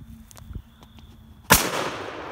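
A shotgun fires once outdoors at thrown pumpkin pieces, a single loud sharp blast near the end followed by a lingering rumbling tail, after a quiet stretch with faint handling noises.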